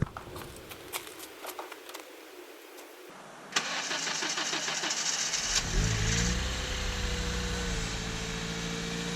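A high-mileage Honda Civic Si outdoors in snow cranks with a hesitant, uneven churning for a couple of seconds before the engine catches and settles into a steady idle, heard up close.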